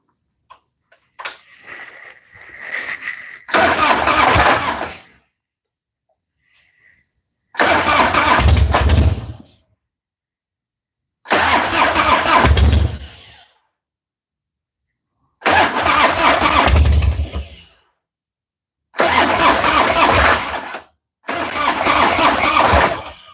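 A Harley-Davidson Sportster motorcycle engine cranking on a weak battery, the starter grinding in five or six long loud bursts of about two seconds separated by silent pauses, with faint clicks and a whine at the start.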